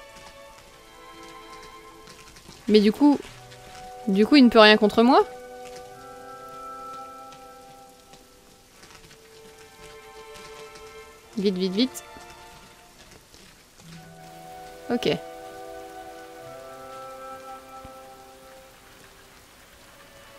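Faint steady rain falls in the video game Rain, a soft continuous hiss under a man's speech, with occasional musical tones rising above it.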